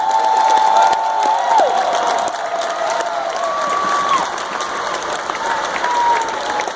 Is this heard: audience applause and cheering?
yes